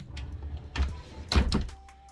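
A bottom drawer in a closet and beauty room being pulled open, a few close wooden sliding thumps and knocks over about two seconds in a quiet room.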